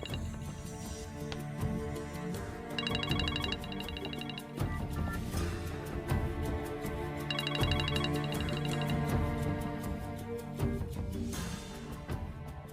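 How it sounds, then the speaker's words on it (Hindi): A telephone ringtone plays in repeated bursts over dramatic background music in a Turkish drama dubbed into Urdu, with the electronic rings clear and prominent. "विदात साहब का फोन है।"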